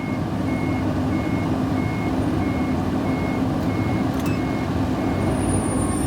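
A four-wheel-drive truck in low range reverses off-road at about 1500 RPM, its reversing alarm beeping in a steady, regular rhythm over a loud, rumbling diesel engine; no one speaks.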